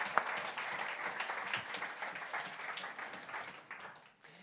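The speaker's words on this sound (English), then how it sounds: "Can we give her a round of applause?" Quiet audience applause in a church hall, a soft patter of many hands that thins out and fades toward the end.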